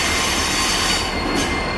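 A freight train with a remote-controlled DPU locomotive rolls past at Roanoke, its wheels squealing and the cars rumbling loud and close in a continuous roar.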